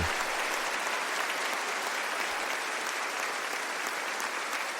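A church congregation at a French-language Bible study in Bucaramanga applauds, a dense and even wash of clapping that holds steady from start to end with no speech over it.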